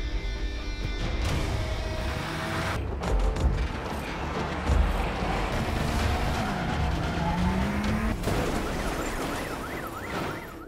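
A car chase from an action film: engines roar while tires squeal and skid in drawn-out, pitch-bending screeches, with sharp thuds of impact breaking through the loud, continuous mix.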